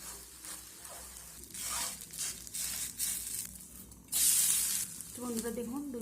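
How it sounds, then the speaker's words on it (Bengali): A tiffin snack fries in a pan after being flipped and pressed down, with bursts of sizzling that rise and fall as it is pushed, faint clinks and a brief louder crackle partway through. "উল্টে দেওয়ার পর এইভাবে আমি একটু চেপে চেপে ভেজে নেব।"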